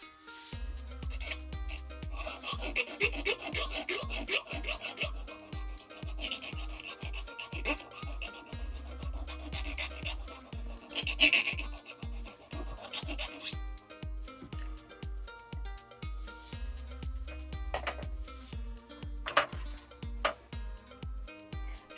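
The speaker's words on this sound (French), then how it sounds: "le bruit de la lime est un peu crispant" Hand filing of a silver earring with a metal file: steady, regular rasping strokes, moderately loud, continuing throughout with no talk.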